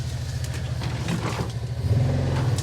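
A vehicle engine rumbles steadily up close as it drives along a dark off-road trail near a pop-up camper, the low drone swelling louder toward the end as it pushes on.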